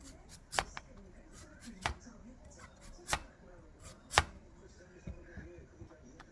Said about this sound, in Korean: 이렇게 이거는 송송송송송 채썰기